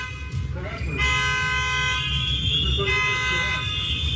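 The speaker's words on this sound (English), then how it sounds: "Honking all over the city." Car horns honking across city streets during a protest, sustained overlapping blasts that carry on through the clip beneath people talking.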